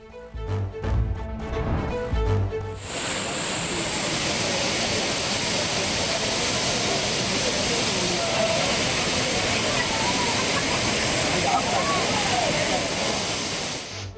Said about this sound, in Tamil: தென்காசி மாவட்டம் குற்றாலத்தில் உள்ள அருவிகளில் நீர்வரத்து சீரானது.